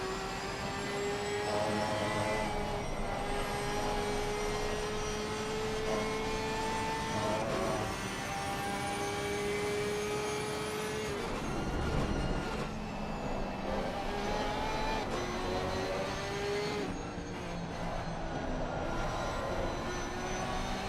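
A race car engine in a sim racing league game at the Nürburgring roars steadily and loudly throughout, its pitch climbing and dropping with gear changes and braking, with no talk over it.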